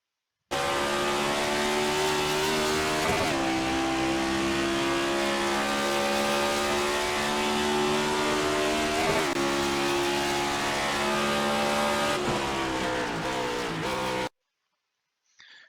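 A NASCAR Next Gen stock car in the iRacing sim circles Road America, its engine roaring loud and continuous with pitch rising through the gears and dipping on downshifts into corners, cutting off abruptly near the end.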